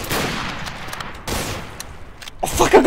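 Rapid gunfire from a Garry's Mod DarkRP shootout, bursts of shots crackling in close succession with a louder flurry near the end.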